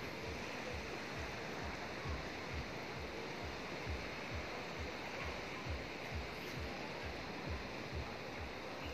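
A large river rushes with a steady broadband roar, continuous and fairly close, with no voices over it.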